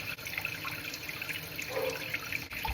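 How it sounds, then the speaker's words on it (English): A kitchen tap runs a steady stream of cool water to rinse a grouse, a continuous close splashing and trickling over the bird with small dribbling variations. "I'm gonna run some cool water, rinse it off."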